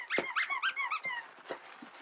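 A dog whimpers and whines in a short run of high, squeaky cries, several quick yelps followed by a few softer whimpers, close and fairly quiet.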